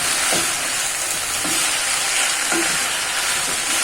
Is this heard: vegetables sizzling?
yes